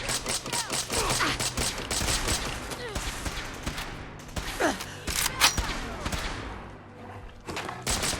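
Enemy gunfire in Fallout 4, a continuous fusillade of overlapping shots and impacts with shouted voices mixed in, busy and close throughout.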